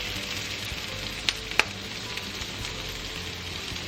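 Garlic and ginger sautéing with bell peppers in a hot pan give a steady, even sizzle throughout, with a couple of small sharp crackles partway through and no voices.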